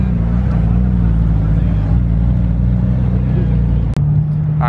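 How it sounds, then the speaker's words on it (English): Twin-turbo Underground Racing Lamborghini Performante engine droning loud and steady with deep rumble, a brief cut near the end before the roar resumes, with voices talking underneath. "Woo, listen to them turbos."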